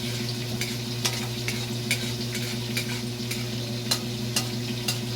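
Garlic and onion sautéing in a pan until golden, a moderate steady sizzle over a constant low hum, punctuated by regular light scrapes and taps of a stirring utensil, with no talking.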